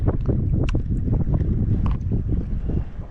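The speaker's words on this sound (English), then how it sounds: "It's too windy." Gusty wind buffets the microphone while fishing from a kayak on open water in winter, low rumbling bursts rising and falling close up, with faint thin clicks over the top.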